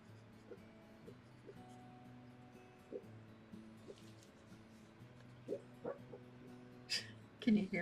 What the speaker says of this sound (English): barking in his sleep